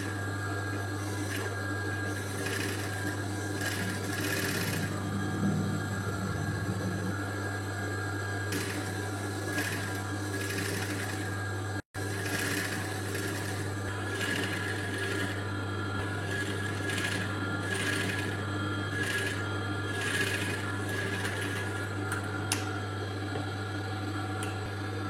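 A sewing machine runs steadily, stitching invisible thread piping with a continuous close mechanical whir and rhythmic needle chatter that pauses briefly midway before resuming.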